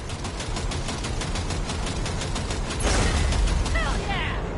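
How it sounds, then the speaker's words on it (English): Rapid gunfire rattles in Cyberpunk 2077 while shooting out a train coupler, a fast, even stream of loud automatic shots over a rumbling moving train, followed by a heavier burst and metallic clatter. "V, shoot out the damn coupler."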